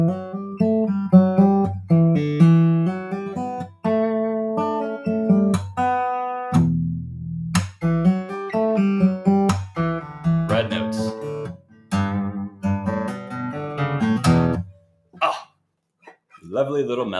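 A transcribed melody plays back up to bar 9, a clear pitched instrumental line with distinct rhythmic notes and short gaps, near and alone without speech.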